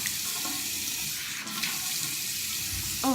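Steady running water from a sink tap while a face is being washed, a continuous close splashing hiss with no talking.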